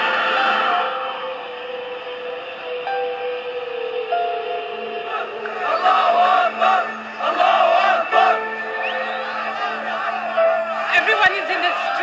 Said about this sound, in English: They are cheering that Mubarak's left.